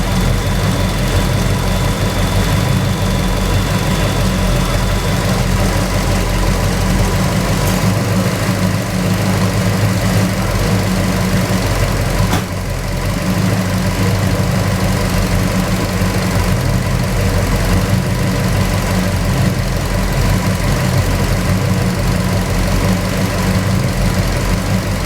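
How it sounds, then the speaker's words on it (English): Pontiac GTO engine idling steadily with all accessories switched off, a loud, continuous low rumble that stays even and close throughout with no talking. "There's the engine running."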